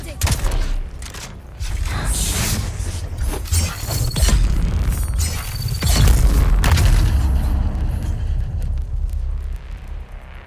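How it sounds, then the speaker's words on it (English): A grenade blast in Dune Awakening, a heavy boom and rumble among ongoing crackling combat noise, loud and close, with speech over the top. "Sounded like a grenade."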